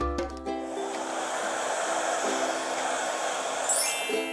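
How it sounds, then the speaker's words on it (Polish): A hair dryer blows steadily to dry glue spread over a backing board and picture in a craft project, a continuous close whirring hum that holds level throughout with no talking. "znów możemy użyć suszarki, żeby nasz klej wysuszyć"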